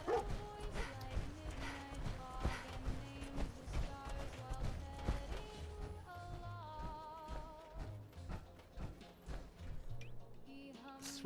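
Dogmeat, the canine companion in Fallout 4, barks in short repeated yelps set against a busy bed of game music and effects, with no clear talk over it.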